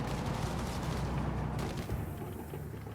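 Enemy gunfire and artillery rumble in Company of Heroes 3, a continuous dense low barrage of shots and blasts that eases slightly toward the end, with no talking.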